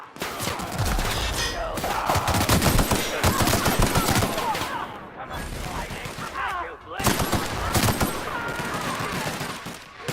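Gunfire in the video game The Outer Worlds: loud, dense volleys of rapid shots and bursts roll on almost without pause, with a brief lull midway.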